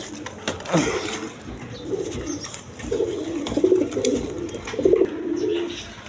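Red Gorra breed pigeons cooing close by, several low throaty coos repeating in bursts, with a few faint chirps and rustles around them.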